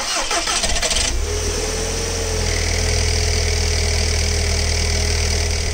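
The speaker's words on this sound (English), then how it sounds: "This is what it sounds like on a cold start if your dual mass flywheel is failing on your DSG" A 2007 Volkswagen GTI MK5 with a DSG transmission and a failing dual mass flywheel cold-starts: a short crank burst, then a loud, steady idle with a rough, knocking rattle throughout.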